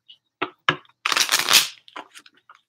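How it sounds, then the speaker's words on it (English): Tarot cards being shuffled by hand, a few sharp riffling bursts followed by a longer crisp flurry of card edges, then softer scattered taps, close and clear in an otherwise quiet room. "one more shuffle."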